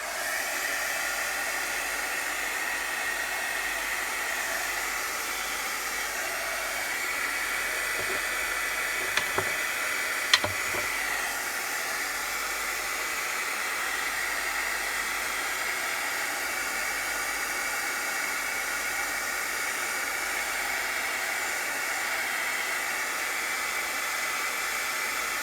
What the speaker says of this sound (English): I'm going to get my heat tool out again.